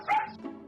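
A dog gives a single short bark followed by a faint softer yip, close and brief, with no talking.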